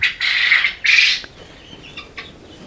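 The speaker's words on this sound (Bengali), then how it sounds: "যে দেখতে পাচ্ছেন তিথি মুরগি এগুলা" Guinea fowl on a poultry farm give two loud, harsh, drawn-out calls close by, followed by quieter scattered clucks and chatter.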